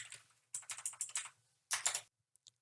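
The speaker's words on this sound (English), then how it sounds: "type in nuclear codes" Fingers tap out bursts of keystrokes on a computer keyboard, two quick runs of clicks separated by a pause, close and clear, followed by a few isolated taps.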